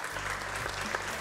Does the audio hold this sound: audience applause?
yes